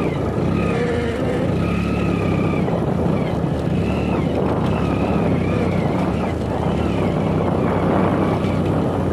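Motorcycle engine running on a push start with no petrol in the tank, a steady, rough idle that stalls when the clutch is released, heard loud and close outdoors with wind buffeting throughout.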